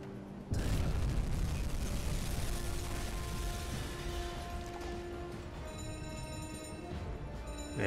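A torpedo strikes a ship and detonates in the submarine game UBOAT, a sudden loud boom that rolls into a long, sustained rumble of burning and debris, with steady tonal hum behind it.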